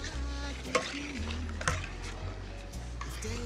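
Rice stirred in a hot, sizzling pot, with a steady frying hiss and intermittent scraping and clinking knocks of the utensil against the pot.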